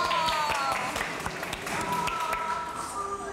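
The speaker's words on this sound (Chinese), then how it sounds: "掌声鼓励！" Applause from a television variety show audience cheering a Sichuan opera face-changing act, a dense, steady clapping wash that fills the clip, with scattered whoops and voices on top.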